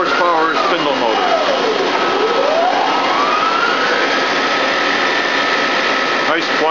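A Mori Seiki SH-3H CNC lathe with a 20 horsepower spindle motor and two-speed gearbox, its spindle running at 2,500 RPM, a loud steady whine with a tone sweeping down then up, continuous and close.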